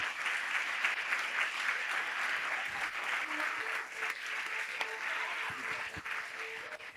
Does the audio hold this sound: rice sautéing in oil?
no